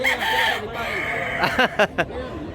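A rooster crows at a busy chicken market, its call rising over a steady din of people talking and haggling close by, with a few sharp bird cries near the end.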